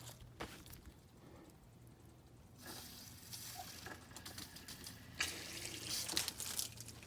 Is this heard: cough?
no